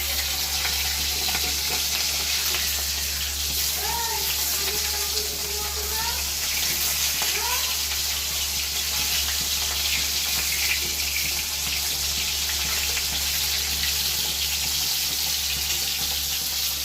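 Pond-raised local rohu fish frying in hot oil in a pan, a continuous crackling sizzle held at an even level close by, with faint background tones and no talk.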